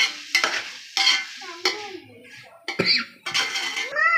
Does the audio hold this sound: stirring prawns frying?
yes